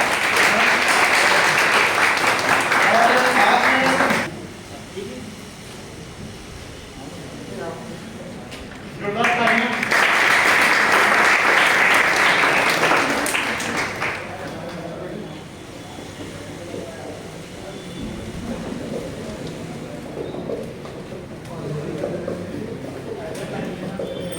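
Audience at a full-stack development workshop in Jabalpur breaks into loud applause to welcome a guest, in two bursts of steady clapping separated by quieter stretches where a voice speaks over room noise.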